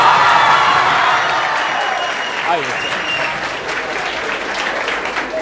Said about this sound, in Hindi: जोरदार ताली बच्चों की तरफ से